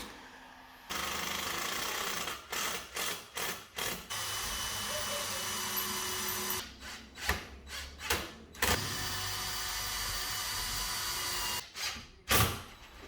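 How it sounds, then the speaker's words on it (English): Painted wooden pieces screwed down into a post and a furring strip behind a wall, a power driver whirring in short bursts, several quick pulses in clusters separated by pauses, close and fairly loud. "I'm screwing the triangle down into the post and into the furring strip in the back of the wall"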